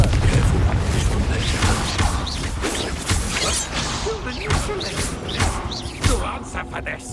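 Confringo blasting-spell explosions from the video game Hogwarts Legacy: booming blasts and whooshes in a dense, loud stream of combat noise, with voices speaking over it.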